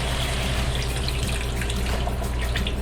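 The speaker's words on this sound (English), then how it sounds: "I'm adding 3 cups of recently boiled water." Recently boiled water poured from a vessel into a pot of seared goat shoulder meat for curry, a steady close splashing gush throughout.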